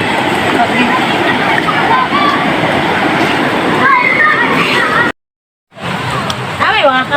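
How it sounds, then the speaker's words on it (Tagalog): Strong river current rushing loudly and steadily as a dense, continuous roar that fills the scene, with people's voices faintly mixed in and a short break near the end. "Sulog ang tubig dito mga friend."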